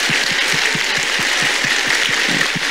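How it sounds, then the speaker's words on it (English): An audience applauds loudly at a spiritual retreat. Dense clapping fills the space, with a steady rhythmic pulse of beats running beneath the wash of hands and no voices. "Big applause."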